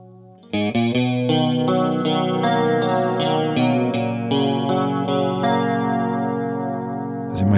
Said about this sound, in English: let's try out the chorus ensemble